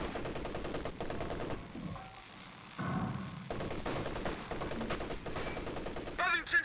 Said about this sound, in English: Shooting at the building here, rather confusingly.